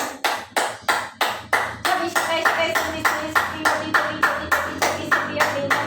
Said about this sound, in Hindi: ताली वादन।